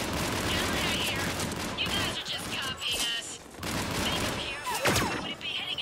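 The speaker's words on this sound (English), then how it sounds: "Holy shit, that was a fucking sniper rifle" Gunfire from Mass Effect 3, including a sniper rifle shot, cracks through a busy game soundscape, with several sharp reports scattered among other shooting and noise, one standing out near the end.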